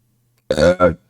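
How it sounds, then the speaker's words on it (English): A loud, close burp in two gurgling bursts, the second shorter, standing alone against silence. "Crap, that was a loud burp."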